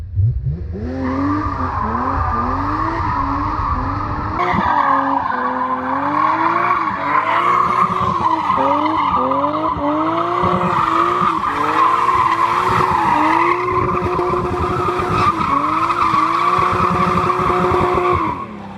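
A high-revving BMW M3 E36 engine (317 hp) screams continuously, pitch climbing and dropping through rapid gear changes, with tire squeal mixed in; loud and close, no talking.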